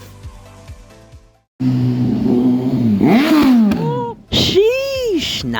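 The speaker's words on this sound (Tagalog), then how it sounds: "napakaganda pakinggan yung exhaust ng Kawasaki Ninja" A Kawasaki Ninja motorcycle revs on a downtown street in Cagayan de Oro, loud and close, its exhaust climbing in pitch through two rising sweeps after a brief quieter idle and a moment of silence.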